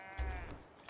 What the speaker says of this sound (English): I just see that the army of sheep that's just wandering around